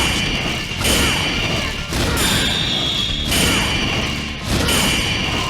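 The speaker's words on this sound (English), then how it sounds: "I think the best part is the sound design of it all. When you hit that perfect slash," Slashing hit sounds from a Sonic game homing attack: three loud, sharp swooshing crashes in steady succession, each a bright burst that rings briefly before the next, with no talk.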